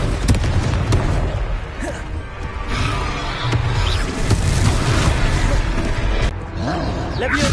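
Confringo blasting spells going off in Hogwarts Legacy, dense and continuous booming bursts layered over game music and effects, with a voice speaking over the action.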